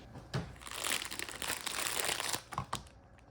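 Crinkling, crumpling plastic and cardboard packaging being ripped and torn open around a Cold Steel GI Tanto knife, a dense continuous rustle with a few sharper tears near the end, close and fairly loud.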